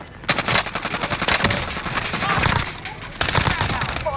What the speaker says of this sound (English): Oh, he's shooting at me. Damn. He's shooting behind that rock.